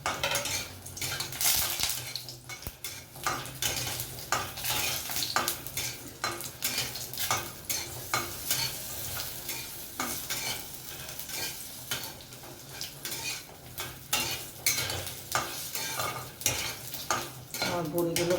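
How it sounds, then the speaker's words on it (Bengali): Bori, small sun-dried lentil dumplings, fry in hot oil over lowered heat as a spatula scrapes and clinks against the pan. The steady sizzle runs close and fairly loud for the whole stretch, with no voices. "এবার তেলটা গরম হয়ে গেছে, আমি এতে বড়িগুলো প্রথমে ভেজে নিলাম"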